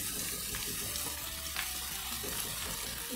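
Ridge gourd curry ingredients frying in a pan, a steady close sizzle with soft scraping of stirring throughout, no voices.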